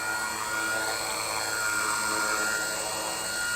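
A WLtoys V950 entry-level 3D RC helicopter in flight gives a steady, loud high-pitched rotor and motor whine that holds evenly throughout without pause.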